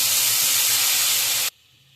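Water poured into a hot pan of spiced chickpeas with turmeric and Kashmiri chilli powder, a loud, close burst of hissing steam that holds for about a second and a half, then cuts off abruptly.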